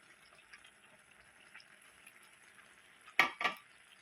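A low, quiet sizzle from clams sukka cooking in a pan, with faint scraping, then two sharp, louder scrapes or clanks of a spoon against the pan near the end; no voices.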